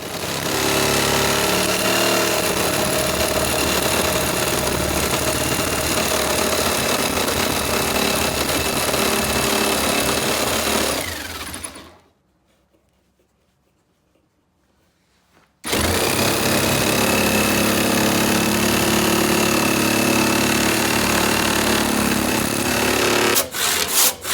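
A jigsaw buzzes continuously through metal for about twelve seconds, stops briefly to silence, then resumes its loud, steady cutting.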